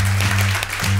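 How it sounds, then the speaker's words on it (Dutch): Audience applause after a talk, a dense steady clatter of clapping filling the hall under a constant low hum, with a brief dip near the end. "Maar nogmaals, een hartelijk applaus voor Jos de Mul."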